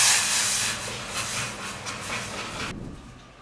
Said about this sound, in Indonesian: sekarang kita mau rebus dulu dada ayamnya